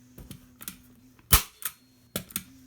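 A staple gun snaps several times while fabric is stapled onto a kitchen chair being reupholstered, giving sharp isolated clacks with one loud crack in the middle and softer clicks around it.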